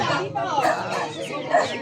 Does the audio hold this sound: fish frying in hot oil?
no